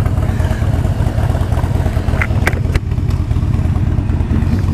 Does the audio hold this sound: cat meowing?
no